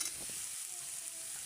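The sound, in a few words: frying garlic, onion, chili and spices in oil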